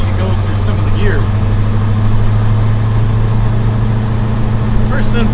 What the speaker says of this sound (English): Now that I'm out of the residential area, I can actually go through some of the gears.